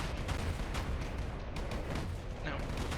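Assault turrets on a ship in Space Engineers fire a dense, steady stream of rattling shots, a continuous mid-level barrage with faint impacts underneath.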